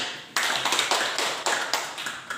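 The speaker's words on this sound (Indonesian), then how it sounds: "Dan tepuk tangan untuk kelompok 1." Classroom applause from students for a group in a mathematics lesson, a burst of quick overlapping claps starting abruptly and continuing with rhythmic accents, fairly close and steady without talk.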